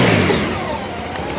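A motorcycle with its stock exhaust runs steadily at close range, a loud, even engine drone with no voices over it.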